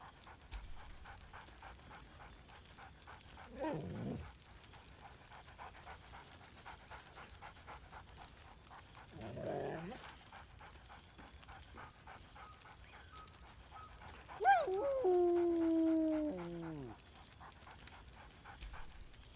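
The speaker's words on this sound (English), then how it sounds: "Scratch barks merrily in something like agreement." A dog in the video game Baldur's Gate 3 pants in a few short bursts, then gives a whimpering, yelping cry, fairly faint and close.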